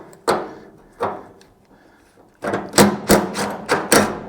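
Metal clanks on a Ford F100 or F250 tailgate as a 1/2 inch deep socket works loose the latch nut: two separate knocks, then a quick burst of five or six sharp ratcheting taps close by.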